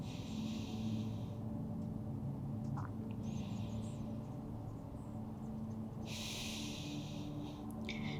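Slow, deep breathing during a yoga pose for a tight back, with a few long airy inhales and exhales drawn quietly through the nose against a low steady background hum.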